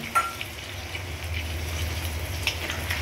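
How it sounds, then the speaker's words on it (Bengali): Shahi paneer gravy with melon seed and cashew paste is sautéed in a pan, a low steady sizzle with soft stirring scrapes and a few sharper clicks of the spoon, close and fairly quiet. "দিয়ে আরও একবার কষিয়ে নেওয়া হবে। সম্পূর্ণ মিশ্রণটাকে আরও একবার কষিয়ে নেওয়া হবে।"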